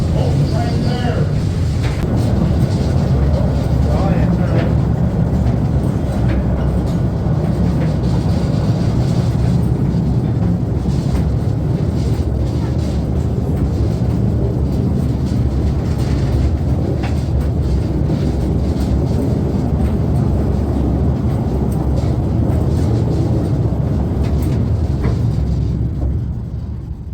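A mine train rumbles steadily along rails through an underground tunnel at a quay, a loud continuous low clatter of wagons throughout, with a person speaking over it.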